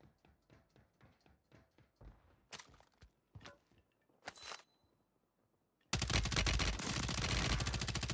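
Rapid bursts of automatic gunfire from Warzone 3 combat, with several short volleys and sharp single shots early on, then a loud, dense sustained stretch of firing near the end, with no talking.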